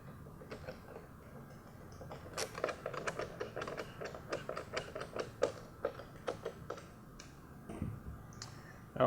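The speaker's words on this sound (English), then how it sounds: "And now we can reinstall all the screws." Screws being driven back into a GMC Sierra headlamp housing during an LED board install, a dense run of small close clicks and ticks from the tool and plastic, steady and quiet with no talking.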